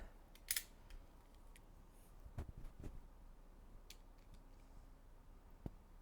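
Scissors snip into packaging from a dropshipped product, a few sharp separate clicks and cuts scattered through a quiet room, close and fairly soft, with no talking.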